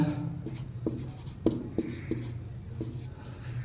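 A maths question is written on a board, giving close, rhythmic tapping and scratching strokes with short pauses between them over a faint low hum.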